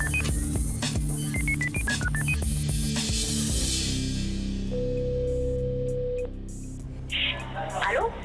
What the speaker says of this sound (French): nous essayons d'appeler tout de suite cette jeune fille qui suit les travaux chez vous